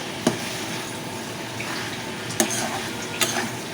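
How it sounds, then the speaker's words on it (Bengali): Freshly washed leafy greens, homegrown in a rooftop garden, are stirred in a cooking pot, giving a wet hiss and rustle broken by three brief metallic knocks of the spoon. "দিয়ে একটু ভালো করে নেড়ে চেড়ে দিচ্ছি।"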